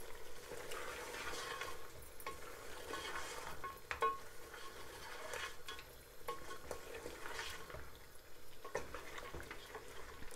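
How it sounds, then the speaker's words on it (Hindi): Mutton with salt in a pot for a goat korma is stirred over heat, a faint steady sizzle with soft repeated scraping strokes and an occasional light clink of the spoon, and no voice. "और इनको मैं कर दूंगी मिक्स।"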